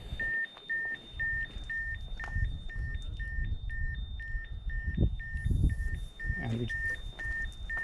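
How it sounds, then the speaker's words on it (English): Geiger counter at Chernobyl, Ukraine: a repeated, regular series of short high-pitched beeps, clear and close, over low rumbling handling noise and brief thuds. "it's my Geiger counter. It's exploding."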